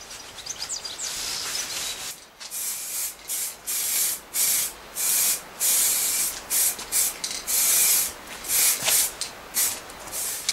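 Spray paint being applied in short repeated bursts to a metal workbench with grey anti-rust paint, a close hissing spray that starts and stops in a steady rhythm of about a dozen passes.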